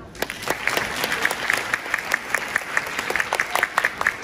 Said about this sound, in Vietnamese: Chúng ta có thể vỗ tay lớn hơn được không ạ?